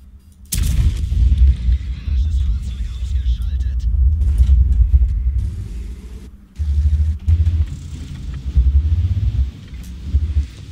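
Tank engine rumble in the World of Tanks video game, a heavy low drone running throughout, punctuated by loud booming cannon shots and gunfire near the start and again partway through.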